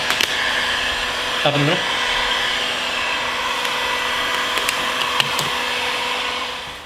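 A heat gun blows a steady, close, loud hiss while warming tint film on a car taillight, running throughout with a brief spoken instruction over it.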